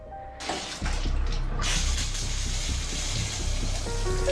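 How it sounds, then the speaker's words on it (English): Shower water starts running and keeps pouring in a steady, full rushing hiss that stays close and even to the end. "the sound of the water running"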